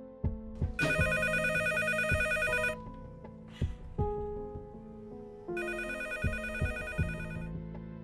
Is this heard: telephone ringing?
yes